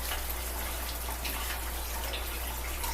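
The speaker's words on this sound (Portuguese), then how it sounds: "Eu vou jogar água quente aqui em cima e vou deixar que o líquido saia ali no balde." Hot water poured over malt grain in a pot during beer brewing, a steady, unbroken splashing rush that stays at an even level throughout.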